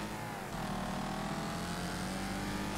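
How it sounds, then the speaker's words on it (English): A car engine in the Wreckfest demolition derby video game revs loudly and continuously, with a dense, steady roar and a slight shift in pitch partway through. "Listen to that engine."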